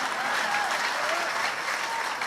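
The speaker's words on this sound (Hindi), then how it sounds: "ताली सभी लोग एक साथ बजाओ" Brief burst of dense audience applause at a Hindi poetry recital, loud and even, with no speech over it.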